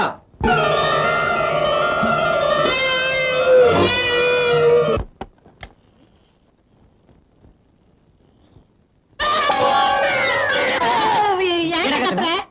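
Two long, loud, drawn-out wailing meows from a cat inside a house, separated by a few seconds of near silence, the strained tone sounding almost like a moan.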